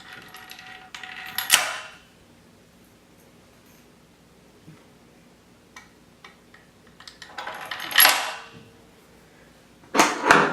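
Pump cylinders, the back two and then the front two, dropped into their seats during reassembly: three sharp, separate clunks spaced by quiet stretches, the last two close together.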